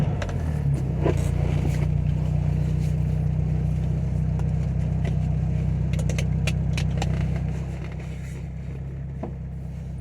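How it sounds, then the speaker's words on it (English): A 1968 Austin America being driven, its small engine giving a steady low drone with faint rattles and road noise, easing slightly in level near the end. "We're driving the Austin America today."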